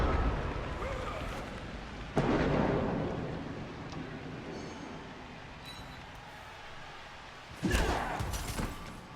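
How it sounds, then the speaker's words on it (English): Rain and thunder in the Blood Bowl 2 video game, a steady hiss of rainfall with two loud rumbling thunder cracks a few seconds apart, a voice talking faintly beneath. "It's the first time that we've ever seen rain."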